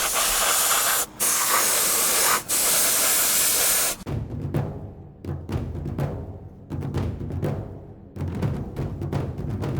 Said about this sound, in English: As you can see, this has all now been sprayed up real nice, quick, easy